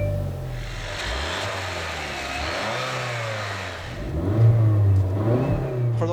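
A 2015 Hyundai Sonata's 2.4-liter four-cylinder direct-injection gasoline engine accelerating, a mid-pitched drone rising and falling in pitch, then revving louder toward the end, with no talk.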